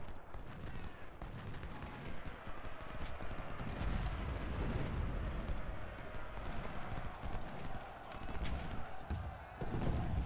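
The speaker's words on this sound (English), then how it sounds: "some canister fire from 2 batteries into Sinclair's brigade" Canister rounds from two artillery batteries fire in Ultimate General: Civil War, heard as a dense, rolling spread of booms and crackling gunfire over constant battle noise, fairly faint overall, with no voices.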